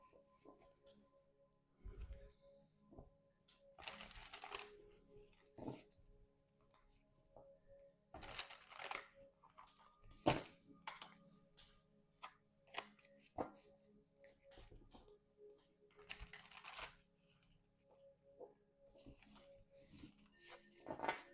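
Repeated bursts of cards being riffled and bridged, crisp fluttering rushes separated by quieter handling and tapping.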